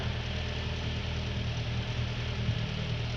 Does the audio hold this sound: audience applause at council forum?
no